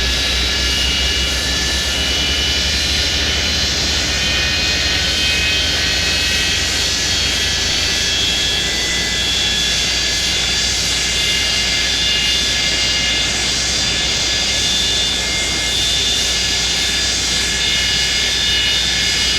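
A Boeing 727 jet engine spools up during start on the ramp, a steady loud turbine whine with high tonal hums over a deep low rumble, continuous and close, with no voices.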